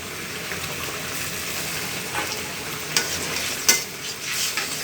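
Koi fish curry with milk, raisins and garam masala paste is stirred in a hot pan, giving a soft steady sizzle with a few spoon scrapes and knocks toward the end, close and unaccompanied by speech.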